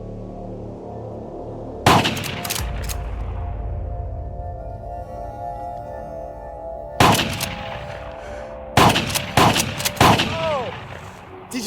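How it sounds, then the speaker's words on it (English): Shotgun blasts fired at a corpse, heard as one loud close boom followed by a long ringing tail, then another blast and a quick cluster of sharp shots, with faint background sound between. "They then disfigure the corpse with a shotgun."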